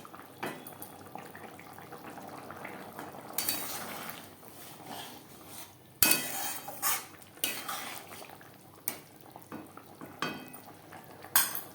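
A spoon stirs kasuri methi and garam masala into a watery egg and potato gravy in a pan, with wet sloshing and metallic clinks and scrapes at an uneven pace, close and fairly quiet.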